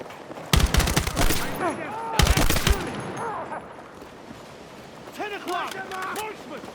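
Heavy gunfire in the Battlefield 6 campaign: dense bursts of loud automatic and rapid shots in two volleys, with shouted voices talking over and between them and more distant firing continuing under the speech.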